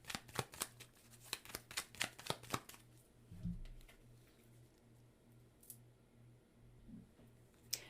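Tarot cards are riffled and shuffled in a quick series of crisp, close snaps, then go quiet apart from soft handling as a single card is drawn. A faint low hum sits underneath.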